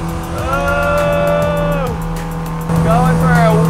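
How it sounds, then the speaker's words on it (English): A jet car roars across water with a loud sustained whine and rising and falling tones as it turns, with a person talking excitedly over the engine. "This jet car is insane, but what is it?"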